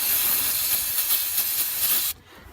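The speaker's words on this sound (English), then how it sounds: "I like to use compressed air even" Compressed air blasts in a loud, steady hiss to clean the battery terminals of a Dodge Ram, then cuts off abruptly near the end.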